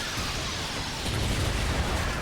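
Heavy 120mm cannon fire from the Whale air support aircraft in Earth Defense Force 4.1, heard as a dense, continuous rumble of blasts that swells slightly midway, loud and sustained with no talking.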